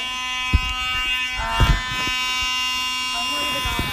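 An electronic fire alarm tone sounds steadily throughout, with people talking and moving nearby over it.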